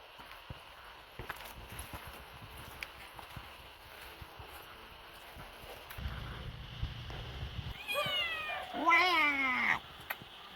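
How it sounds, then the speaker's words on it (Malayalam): Cats meowing inside a shed, a few distinct drawn-out calls near the end, close and fairly clear over quiet background with faint scattered knocks. "നമ്മുടെ പൂച്ചകൾ ഇവിടെ എന്തോ കടിച്ച് പറിച്ചു"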